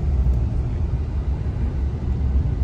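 A 2024 Hyundai Santa Fe XRT climbing a snowy slope produces a steady low engine rumble at constant revs, close and continuous, with no speech.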